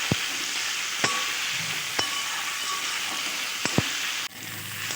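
Spices and potatoes sauté in a pan with dried red chillies, cumin and ginger for a Bengali tangra fish curry, a steady close sizzle broken by a few sharp clinks of a spatula against the pan.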